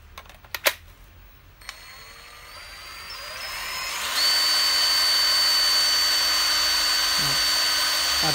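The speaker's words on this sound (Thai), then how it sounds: "เดี๋ยวผมจะหยิบแบตเตอรี่มาเพื่อลองฟังเสียงดูนะครับ" A Makita DTW190Z 18V cordless impact wrench, starting with battery clicks and handling noise, then spinning up to a steady high whine that rises, louder and sustained for several seconds, with brief pitch dips.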